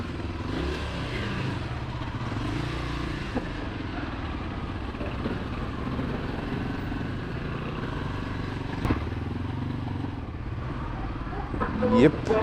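Motorcycle riding through holiday traffic near Negombo Beach, Sri Lanka, a steady engine drone with occasional revving and clattering, wind and traffic noise around, while someone talks over it.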